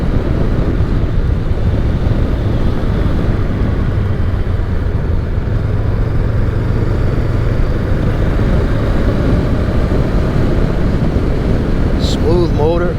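A Harley-Davidson motorcycle engine runs smoothly while riding, a steady low drone heavily buried under continuous wind buffeting across the whole stretch.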